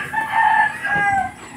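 A farm hen gives a brief, loud, close vocal call with a drawn-out, tonal cluck, heard alone.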